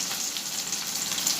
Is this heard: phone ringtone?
no